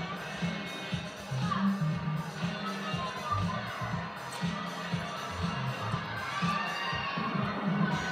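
A crowd cheers and shouts at a college gymnastics meet between Ohio State and NC State during a floor routine, a sustained arena roar with scattered higher yells and voices mixed in.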